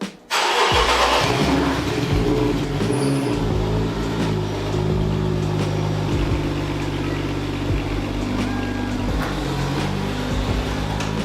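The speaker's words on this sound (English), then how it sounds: "Let's get the tripod and fire the car up." A Subaru SVX car in a home workshop paint booth cranks and fires up with a sharp start, then settles into a loud, steady engine drone close by, with no talking.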